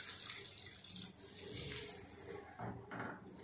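Water poured into a cooking pot after being used to rinse a mixer jar while making paneer butter masala; a steady close splashing, trickling pour runs throughout with no talk.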